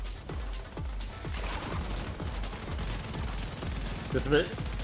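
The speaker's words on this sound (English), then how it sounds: "Oh god, that turret's gotta go." An enemy turret firing in The Division 2, a rapid string of sharp repeated gunshots about every quarter second at moderate distance, with a brief louder burst near the end.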